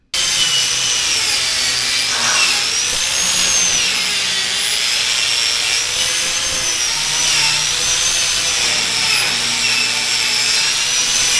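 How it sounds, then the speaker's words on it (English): A grinder fitted with a wire wheel scours welds on a utility trailer frame, a loud, continuous high-pitched whine and scratching hiss that wavers slightly as pressure shifts, close up and without talk. "take the wire wheel on the grinder and just try to clean up all these welds"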